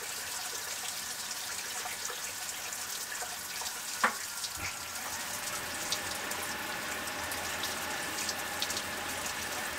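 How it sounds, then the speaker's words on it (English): Hot water runs steadily from a sink faucet at a homestead, a constant close hiss of splashing water with a couple of small clinks partway through. "Okay, so over here in the sink, now we have hot water."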